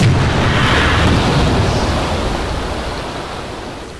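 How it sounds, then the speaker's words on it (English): In Kerbal Space Program, a spacecraft crashes into water with a broad roaring splash of noise that starts loud and gradually decays over several seconds, with no voices. "it crashed into the water."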